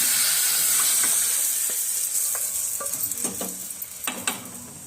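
Coriander leaves dropped into hot oil for a tempering on toor dal rasam crackle in a steady sizzle, with sharper spitting bursts and stirring clinks toward the end, close by and with no talk.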